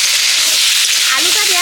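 Potatoes tipped into hot oil with fried tomato and slit green chillies, giving a loud continuous hiss and sizzle close by, with a faint scrape toward the end.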